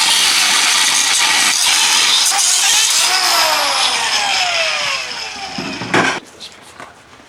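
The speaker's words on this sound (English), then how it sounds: "What you can do is you cut the stud right off and you don't have to deal with it." A power tool cuts through a ball joint stud on a 2005 Ford F-350 with a loud, harsh grinding roar that then spins down in a falling whine, followed by a few scattered clanks.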